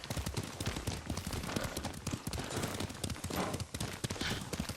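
Horse hooves clip-clopping in Ghost of Tsushima as riders travel at a steady trot, a continuous rhythmic patter of hoofbeats at moderate distance, fairly faint, with no talking over it.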